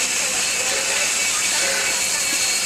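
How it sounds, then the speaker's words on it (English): Steam locomotive 3265 "Hunter" venting steam, a loud, continuous broadband hiss that stays steady throughout with no break. "A lot of smoke and a lot of steam"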